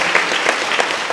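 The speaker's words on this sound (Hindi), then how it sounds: "जाइए, तालियां दे इनके लिए" Audience applause at a Christian healing retreat in Chhattisgarh, a short, steady burst of crowd clapping, loud and close, about a second long.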